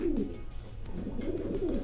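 Pigeons cooing at a pigeon auction, a steady run of soft, throaty coos close by with a low rumbling murmur, no talk over them.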